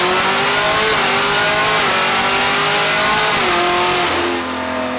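Supercharged Chevrolet Corvette C6 ZR1 with a Kong 2650 setup revving hard on a chassis dyno, loud continuous engine roar climbing through several gear-like pitch sweeps before the throttle drops off near the end.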